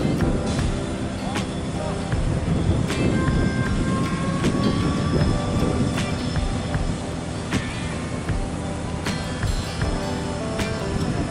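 A KCIC400AF high-speed electric EMU trainset rolls along the rails near its depot with a steady low rumble, periodic clicks from the track joints, and faint high whines, heard from nearby.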